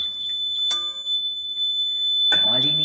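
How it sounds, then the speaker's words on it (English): Buzzer of a class 9 school project water-level alarm sounding a steady tone throughout, with a brief clatter near the start and a voice speaking toward the end. "When the bucket fills up and the buzzer starts buzzing"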